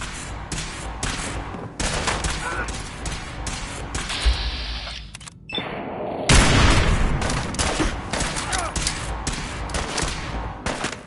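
Enemy gunfire in Fallout 4 rattles out in dense, loud bursts of rapid shots that run almost without pause, with a heavier crack near the middle and a brief lull before the firing resumes.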